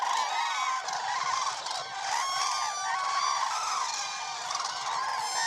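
A large flock of cranes calling at dawn in a swamp forest before taking off, a dense continuous chorus of overlapping trumpeting honks, loud and steady throughout.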